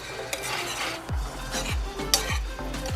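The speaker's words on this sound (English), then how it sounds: "All right, so we're gonna stir this." A spoon stirs a creamy seafood lasagna sauce in a pot, giving close scraping and thick, wet swishes. A few metallic clinks and low thuds land against the pot, with a faint sizzle underneath.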